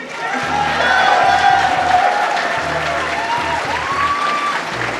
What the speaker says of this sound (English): can we just get another round of applause for all of the runners?